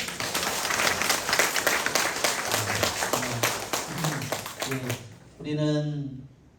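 A church congregation at a Saturday Holy Spirit prayer meeting applauds in a loud, dense wash of clapping, with a voice speaking over it as the clapping fades near the end.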